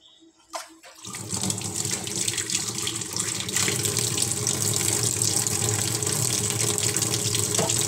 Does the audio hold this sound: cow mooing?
no